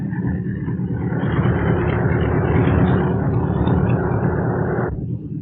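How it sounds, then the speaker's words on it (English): A Brewster SB2A Buccaneer WWII aircraft runs its engine at full power for a flaps-down takeoff, a steady loud roaring drone that holds for several seconds and then cuts off sharply at the end. "Now let's try a takeoff with the flaps down for the full distance of the takeoff run."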